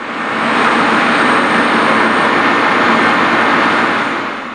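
Douglas DC-6 piston engines running during a ground run at an airfield, a loud steady roar that holds constant throughout with no talk.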